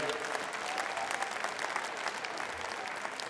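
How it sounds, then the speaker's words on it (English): A crowd applauds at a heavyweight Canadian horse pull final, a dense, steady wash of many hands clapping throughout, loud and continuous with no pauses. "let's give him a big round of applause"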